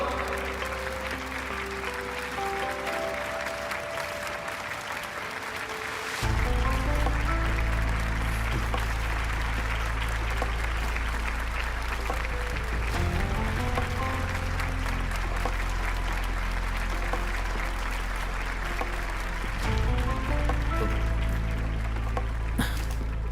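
Sustained crowd applause welcoming a hero in a dubbed Chinese drama, steady clapping that runs throughout under swelling background music.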